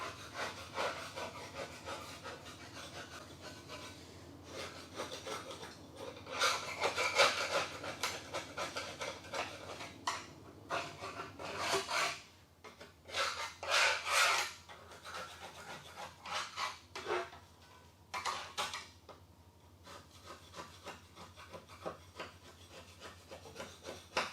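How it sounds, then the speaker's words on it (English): A metal scraper rasping against the underside of a compact tractor's mower deck, with uneven bursts of close, gritty scraping and short pauses, loud at times and unaccompanied by talk. "I'm going to give the deck a quick scraping."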